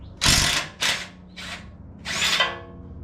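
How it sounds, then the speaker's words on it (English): Impact gun with a 19mm socket loosening a bolt on a 2009 Toyota Tacoma TRD during rack and pinion replacement: four loud, close, rattling bursts of hammering, separated by brief pauses. "Grab a 19mm socket, your impact gun, and hope and pray."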